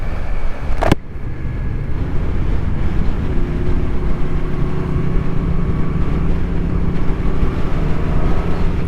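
A Triumph Street Triple 765 RS motorcycle pulling in sixth gear, a loud, constant engine and road roar with heavy wind rush, a brief sharp burst near the start, no talking.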